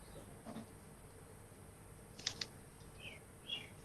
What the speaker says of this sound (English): I hear birds somewhere.